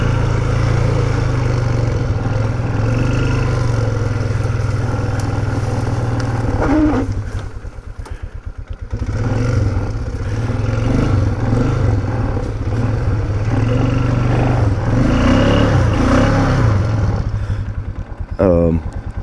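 A four-wheeler ATV engine drones loud and close, rising and falling as it revs, with a brief dip in power partway through. A voice can be heard over the engine.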